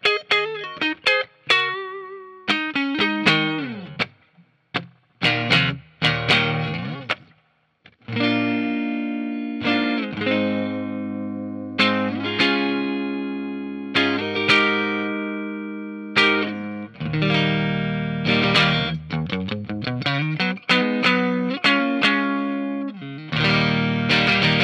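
A 2020 Fender Parallel Universe Vol II Strat electric guitar played on its neck pickup runs through a string of chords and single notes with strums, sustained tones and brief pauses, heard alone without talk.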